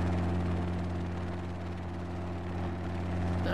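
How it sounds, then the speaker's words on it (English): A Robinson Beta helicopter idles with a steady, loud rotor and engine drone, a constant low throbbing hum filling the whole stretch with no talking. "get back into the helicopter. You can always tie this thing to like a lamppost or something and leave it running"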